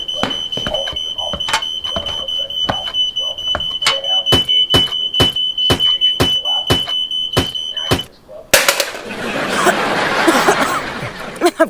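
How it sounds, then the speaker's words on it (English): A smoke detector set off by a burnt turkey gives a rapid run of sharp, piercing high beeps for about eight seconds, loud and close, then cuts off into a rush of noise and voices. "I gotta turn off the smoke detector."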